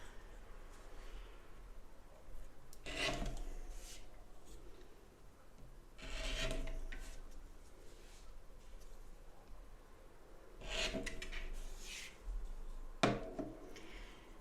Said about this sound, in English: I will trim the corners.